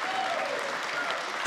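A crowd at the 2018 Derby City Classic 9-ball finals breaks into steady, dense applause for a pool shot, a continuous wash of clapping that holds evenly throughout and swells slightly at the end.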